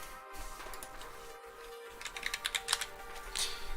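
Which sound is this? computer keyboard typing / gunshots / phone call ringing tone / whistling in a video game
computer keyboard typing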